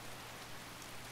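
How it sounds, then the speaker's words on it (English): Steady rain falls in the Skyrim video game, a dense even hiss of drops that holds at a constant level with no voices over it. "but it's still raining"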